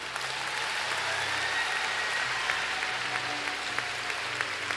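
A church congregation at a healing service breaks into sustained, dense applause that fills the whole stretch evenly, loud and close, with no speech on top.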